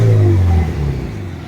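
A Mitsubishi Evo engine revs hard with the handbrake up for a rev-match, its launch-control limiter holding around 5,000 rpm. The loud, close rumble drops after a brief burst and then settles to a steady idle.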